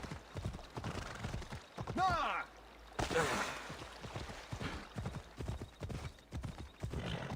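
A horse gallops in Assassin's Creed Odyssey with rapid, steady hoofbeats throughout and a short whinny near the middle. Someone talks over it.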